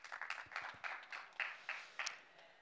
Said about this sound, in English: Let's please give her a warm round of applause